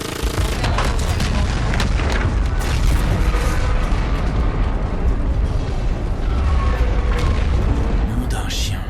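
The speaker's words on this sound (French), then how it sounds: "Je crois qu'on peut le dire. Explosion confirmée." A tower blows up in the Call of Duty Infinite Warfare video game, a loud sustained roar of booming blasts and rumbling debris with crackling bursts throughout, full and close.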